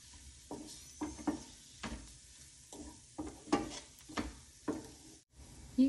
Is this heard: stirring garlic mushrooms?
yes